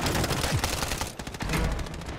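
Rapid automatic gunfire from the video game Call of Duty MW3, loud and close, with dense repeated shots in quick bursts and a brief pause midway.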